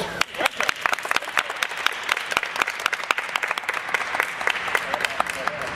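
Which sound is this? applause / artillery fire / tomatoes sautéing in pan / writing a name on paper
applause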